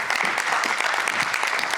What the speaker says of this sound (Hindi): अपने कलाकारों से चाहूँगी कि भी जोरदार हमारे दर्शकों के लिए ताली बजाएं